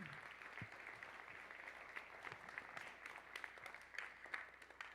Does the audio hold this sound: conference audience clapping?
yes